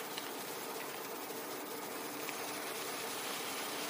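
A Trix 22131 TEE model train runs and gets up to speed, a faint, smooth steady whir with a thin high whine and no talk.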